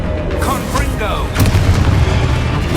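A Confringo fire spell in Hogwarts Legacy bursts with a loud booming blast and crackling rumble, close and heavy, under a voice shouting over the game action.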